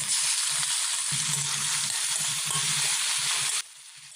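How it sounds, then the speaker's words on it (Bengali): Potatoes frying in oil with salt and turmeric hiss loudly and continuously up close, with faint spatter and a few soft clinks, before the sizzle drops abruptly near the end. "প্রথমে আলুগুলোকে ভেজে নিচ্ছি তেলের ওপর"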